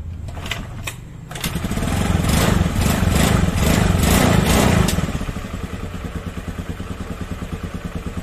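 A motorcycle engine is kick-started during a battery charging and rectifier check. A short scrape of the kick lever comes first, then the engine catches and revs up loudly before settling into a close, steady idle with a quick, even putter.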